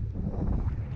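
Strong mountain wind in the Pyrenees buffets the microphone with a steady, low roaring rumble throughout, loud and close, with no voices.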